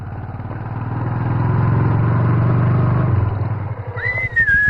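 A motorcycle rumbles close by as it rides, its engine throbbing steadily, then slows and idles down to a stop with a few uneven putters at the end.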